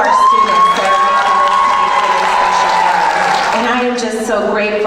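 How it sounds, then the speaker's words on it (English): Audience at a school board of education meeting cheers and applauds for students, loud crowd noise with shouting voices and a sustained whistle-like tone, clapping blended into the cheering. "So can we give a round of applause for all of our students that are making this night really special for us?"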